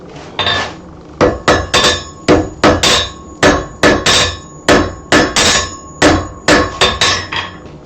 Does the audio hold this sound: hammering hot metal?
yes